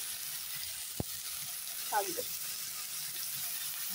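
Oil sizzles quietly and steadily in a wok as spices fry, a soft continuous hiss with one sharp tap and a brief murmur of voice.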